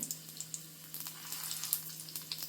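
Mustard seeds and curry leaves sizzle in sunflower oil for a tempering for a hog plum gojju: a soft, close crackle with small popping bursts and a steady low hum beneath, with no talk.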